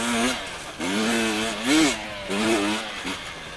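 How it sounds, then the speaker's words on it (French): The fuel-injected two-stroke engine of a 2020 KTM 300 TPI enduro bike revs up sharply again and again, each blip rising and falling in a crisp, raspy burst, close and loud. "C'est tellement satisfaisant ce petit bruit de l'injection"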